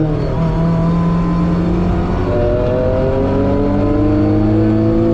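A Mazda MX-5 engine at full throttle on the Nurburgring, heard loud and steady from inside the car, with rising harmonic tones as the revs climb through the gears and no talking.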